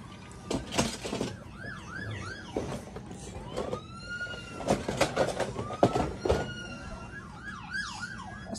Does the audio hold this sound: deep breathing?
no